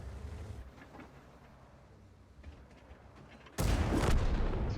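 A heavy tank gun from the Char Futur 4 fires in World of Tanks after a quiet stretch: a sudden loud, booming blast with a long, sustained rumbling roar, with no talking.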